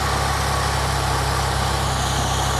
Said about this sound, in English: Now we can start the engine up